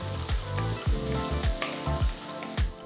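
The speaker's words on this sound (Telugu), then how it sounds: "రెండు సన్నగా తరిగిన మీడియం సైజ్ ఉల్లిపాయల్ని వేసి రెండు నిమిషాల పాటు వేయించుకోవాలి" Chopped onions frying with spices in a pan for a peas and potato kurma, sizzling steadily while a spoon stirs in regular rhythmic scrapes, close and fairly loud.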